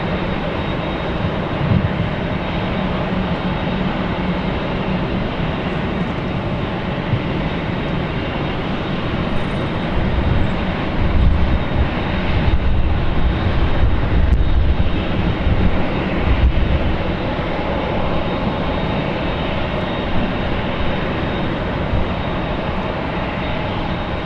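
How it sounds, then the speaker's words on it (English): Jet engines of a Boeing 747 and a Delta Boeing 767 at Los Angeles airport blend into a loud, continuous roar, swelling with deeper rumbling midway before settling back to a steady drone. "I think you're hearing a mix of the Queen and the Delta"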